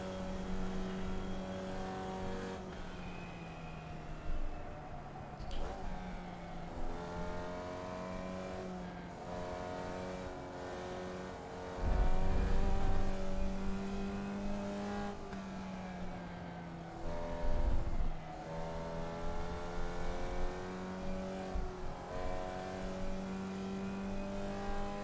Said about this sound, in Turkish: Formula V araç.